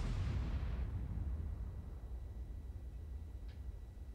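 A single loud gunshot opens the clip, the marking round before a funeral send-off rifle salute, booming outdoors and rolling away into a long fading echo, with no talk.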